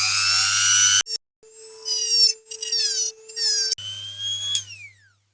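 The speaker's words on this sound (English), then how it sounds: "So got the Dremel ready." A Dremel rotary tool cuts parts off a diecast Dinky Toys 156 Rover 75 toy car during restoration, giving a loud, high whining grind that rises and falls in pitch over several seconds, broken by short pauses.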